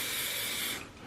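A continuous aerosol waterproofing spray hisses steadily from a can held close to boots, dipping briefly near the end before resuming.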